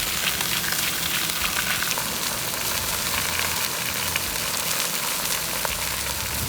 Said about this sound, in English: while the skirt steak is cooking up